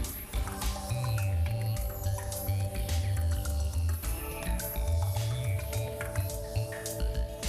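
In a car radiator factory, a machine forms a 4 cm metal strip into a flat tube and pushes it through a bath of molten lead. Fine clicks, ticks and soft wet squishes run over a constant mechanical hum.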